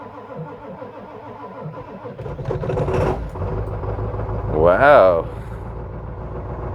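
A 1996 Ford Powerstroke diesel truck engine cranks and catches on a cold start, then settles into a rough, rumbling idle with a brief rev, while a person exclaims nearby.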